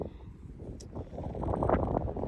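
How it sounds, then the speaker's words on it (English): Broadband wind noise rushes over the microphone on a ranch, swelling toward the end, with a low engine-like rumble underneath. "it's windy today, and that's why there's wind."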